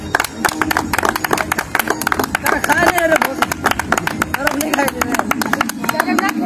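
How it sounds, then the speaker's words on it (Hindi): An audience at a public kung fu demonstration claps in a steady rhythm of sharp beats, with voices calling over the clapping throughout. "आप लोग ताली मारिए"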